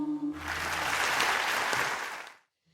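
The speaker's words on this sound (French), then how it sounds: "on entend les applaudissements, live" A burst of applause from an audience, dense clapping rising quickly after a brief tone and fading out abruptly after about two seconds.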